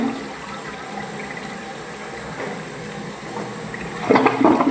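Water flows steadily through pipes at Uno Beach Resort, a continuous rushing hiss that swells into louder gushing and splashing near the end.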